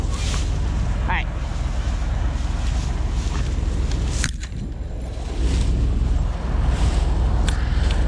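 Steady breeze blowing outdoors across a farm field on a sunny day, a loud, constant rushing wind buffeting the microphone with a brief lull midway, then gusting back up.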